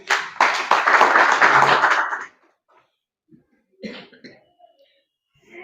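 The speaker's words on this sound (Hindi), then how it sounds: "सर के लिए जोरदार ताली।" Applause from an audience at an office farewell ceremony, a dense burst of clapping for about two seconds that stops abruptly, followed by scattered coughs and small noises.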